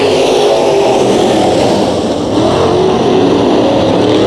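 Dirt track race cars roar together at the green flag to start a heat race at Kern County Raceway, a loud, dense, continuous engine drone with no clear breaks, heard up close as the pack gets going.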